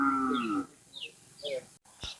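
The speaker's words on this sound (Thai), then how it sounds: "นี่ก็เป็นวัวซ้อมใช่ไหม" Several racing bulls in training moo near and loud at a Thai bull-racing ground in Phetchaburi, one long low call followed by shorter higher calls spaced apart, with a brief voice and a sharp knock near the end.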